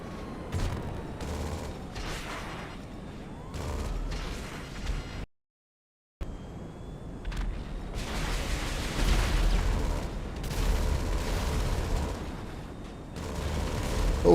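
A gunfire barrage during aerial combat in GTA Online: rapid bursts of shots and blasts crackle over a mechanical drone, cut by a second of silence, then return as a heavier, sustained volley.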